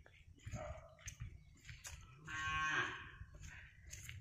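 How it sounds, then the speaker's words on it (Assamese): Cows at a rural Assamese home give one drawn-out moo in the middle, fairly close. Scattered knocks and household noises come before and after it. "গৰু বেবেনি ধৰছি"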